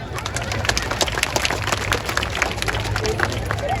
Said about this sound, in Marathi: ज्याला वाटतं बरोबर आहे त्यांनी टाळ्या वाजवा